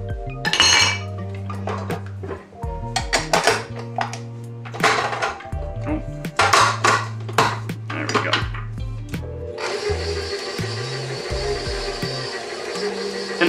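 Gluten-free pie dough with butter, salt and vinegar being mixed in a mixer: clinks and knocks of the bowl and utensils, motor hum, then a steady whirring mixer drone near the end.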